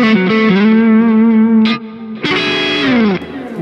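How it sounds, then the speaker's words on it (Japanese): PSST electric guitar played on the front pickup: two sustained distorted chords ring out close and loud with chorus-like shimmer, separated by a brief pick scrape, with no talking. "フロントの音聞いてみましょうか"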